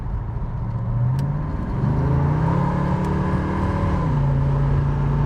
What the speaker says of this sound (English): we're at 50 miles per hour right now. Plenty of acceleration out of the vehicle